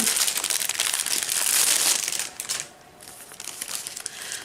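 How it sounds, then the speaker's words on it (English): Plastic packaging crinkles loudly and steadily while a quilt box is unboxed, easing to a quieter pause before the rustling picks up again. "Sorry for the crinkling."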